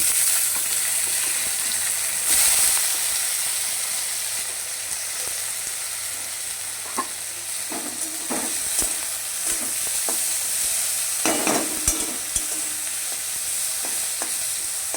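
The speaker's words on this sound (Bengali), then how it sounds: "বেগুনটাও একটু ভাজা হবে, হালকা ভাজা হবে।" Eggplant fries in a pan with chopped onion and garlic, giving a steady close sizzle broken by occasional clicks and scrapes of stirring.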